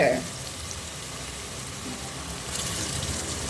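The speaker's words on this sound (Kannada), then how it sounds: "ಈರುಳ್ಳಿ ಹಾಕಿ ಚೆನ್ನಾಗಿ ಬಾಡಬೇಕು ನೋಡಿ ಫ್ರೆಂಡ್ಸ್" Onions frying in a pan for kushka rice, a steady close sizzle that hisses continuously, slightly brighter toward the end, with a short clink at the start.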